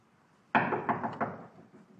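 Several sharp knocks land on a door in quick succession, close and fairly loud against a quiet room, with no voices during the knocking.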